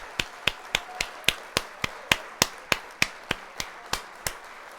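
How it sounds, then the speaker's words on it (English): Applause sound effect on a livestream: a steady run of about fourteen sharp, evenly spaced claps at roughly three per second, clear and alone with no talking. "Let's hit the applause."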